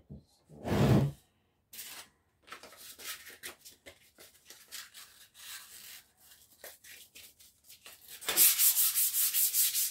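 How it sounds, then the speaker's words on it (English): An old Record metal woodworking vise is sanded by hand with quick rasping strokes, bursts of scratchy friction separated by short pauses, ending in a louder run of rapid rubbing. "Just give it a bit of sanding before we put any"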